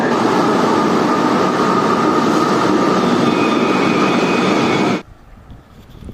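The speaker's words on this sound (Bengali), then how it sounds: "আমরা ইউলো লাইনের মেট্রোতে বসে আছি" Loud, steady rumble and roar inside a moving Kolkata Yellow Line metro car, Dum Dum Cantonment to Airport, for about five seconds, then cutting off abruptly to a quiet hum.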